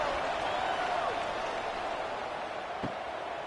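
A stadium crowd in a video game football match roars in a steady broad wash of cheering and applause that fades slightly toward the end, with no clear talking.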